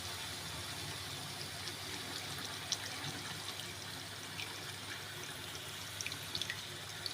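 Water runs over ground mustard as it is strained, a faint, continuous trickle and splash with a few small drips and clinks, close but quiet, with no talking.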